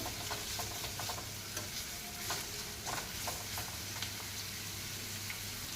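Onions fry in a pan with a soft, continuous sizzle, broken by repeated scraping and tapping strokes of a stirring spoon; quiet, close and with no one speaking.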